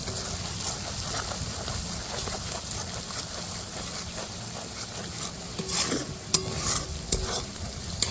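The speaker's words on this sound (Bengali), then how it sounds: "কাজু বাদাম বাটা আর চিনিটাকে আমি খুব ভালো করে মিশিয়ে নেব" Cashew paste and sugar stirred together in a pan over gentle heat for a Bengali basanti pulao, with a steady scraping stir over a soft, continuous sizzle and a few sharper clinks of the spoon near the end.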